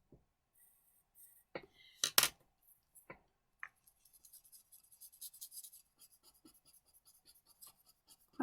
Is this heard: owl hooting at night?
no